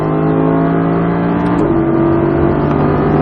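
An Audi R8 V10 accelerates hard out of a corner on a track, its loud engine note holding steady and then stepping up in pitch as it pulls through the gears, close and continuous.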